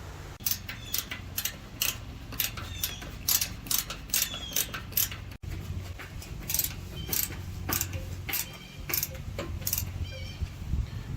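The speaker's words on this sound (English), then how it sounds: "Ratcheting 10-in-1. Best thing you'll ever buy." Ratcheting 10-in-1 screwdriver turning, giving repeated quick clicking bursts of the ratchet mechanism in an irregular rhythm, close and fairly clear over a low background hum.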